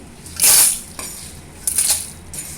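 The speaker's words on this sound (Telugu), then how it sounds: "ఒక బౌల్లో తీసేసుకుందాం ఇవన్నీ" Bright metallic scraping and clinking of a spoon against a bowl as fried curry leaves and lentils are transferred, two short bursts with a faint third tap.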